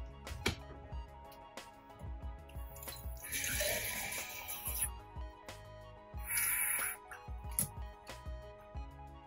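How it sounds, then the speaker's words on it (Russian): Plain water poured into a glass jar over roses for a homemade oil lamp, heard as two separate bursts of splashing pour, the first longer and the second shorter, close by with light clinks around them. "Заливаем их обычной водой."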